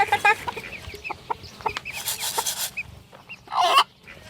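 Chickens clucking and calling in a mixed backyard flock with a few ducks, several birds at once as they come running, fairly close, with scattered cackles and a louder burst near the end.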